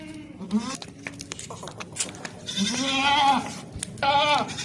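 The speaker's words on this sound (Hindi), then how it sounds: "बहुत ही ताकतवर मोटी बकरी है" Stout, heavy dairy goats at a livestock sale bleat several times in loud, close, drawn-out calls, with people talking nearby throughout.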